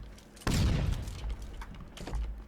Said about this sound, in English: Alright, flashbang in.